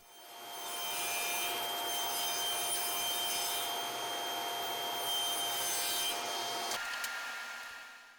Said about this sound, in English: I finish up the handle detail with a slight undercut on the table saw